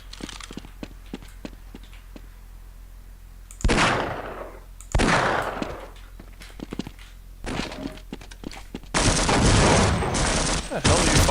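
Video game gunfire sounds in bursts: scattered sharp shots, then heavy impact blasts around the middle, ending in a dense sustained volley of fire, with a voice briefly speaking.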